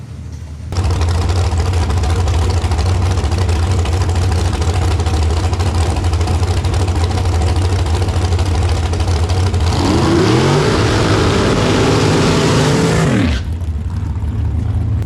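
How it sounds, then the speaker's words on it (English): Drag racing cars at a track doing side-by-side burnouts, a sustained loud roar of engines held at high revs, swelling with screeching tire noise near the end before dropping off. "All right, side-by-side burnouts."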